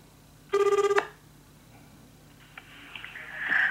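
An outgoing call to Yomiuriland in Japan rings once as a short, clear telephone ring burst, followed by quiet line noise and faint tones before the line connects.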